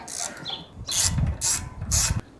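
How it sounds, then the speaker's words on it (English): A 6mm Allen key working retaining screws out of the rack on a 2022 Honda Trail 125 motorcycle, giving close, bright clicking and scraping bursts in an uneven rhythm. "using a 6mm Allen key, we got to take out these retaining screws"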